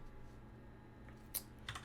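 Keys tapped on a computer keyboard while entering a g++ compile command, a few light clicks clustered near the end after a quiet stretch, close but faint.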